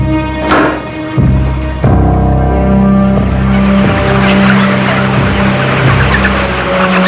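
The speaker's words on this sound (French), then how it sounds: "Des milliers de poulets à perte de vue." Thousands of chickens packed into an industrial poultry house make a loud, dense, continuous din of overlapping clucks and calls, with no clear pauses.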